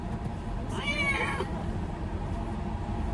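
A single drawn-out cat meow sounds outdoors in a rural area over steady background noise, fairly faint and somewhat distant.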